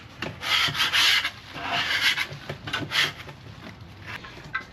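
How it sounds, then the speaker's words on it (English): A scraper rasps across the inside of a pellet grill in repeated rough strokes, close and loud, with a rhythmic back-and-forth scrubbing and no talking. "You just scrape it down."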